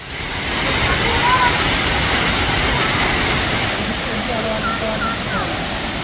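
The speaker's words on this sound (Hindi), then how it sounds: "देखिए ये है भवानी फॉल्स, बहुत ही सुंदर लग रहा है यहाँ पे आने के बाद, सिर्फ पानी का नॉइज है" Bhavani Falls in the Ayodhya Hills of Purulia gives a steady, loud, broadband roar of rushing water that fills the whole scene without pause.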